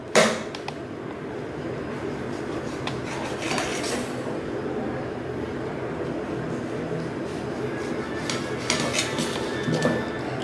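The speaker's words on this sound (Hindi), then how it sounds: "अब इसके साइड्स जो है हम उसे काट लेंगे, सारे साइड्स को हम निकाल लेंगे" A knife trims the crust edges off bread slices for bread papdi chaat, giving continuous scraping and sawing scrapes with occasional light clinks, close up and steady, with no talking.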